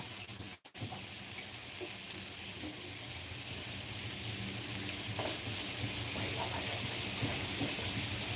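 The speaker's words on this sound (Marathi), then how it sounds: "कमी गॅसवर कमी करून गॅस पनीर फ्राय करून घ्या" Paneer frying in a pan on low heat, a steady dense sizzle with light bubbling, close and even, with one brief dropout near the start.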